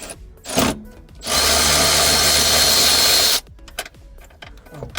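A power drill drives Torx T40 screws out of a Toyota Camry dashboard frame, with one brief burst and then a loud, steady whir lasting about two seconds, followed by faint handling clatter.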